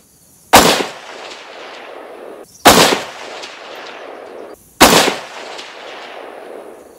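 Three loud rifle shots from an M1A Scout fired at a 300-yard target, each a sharp crack trailing into a long echoing decay, spaced about two seconds apart with no talking.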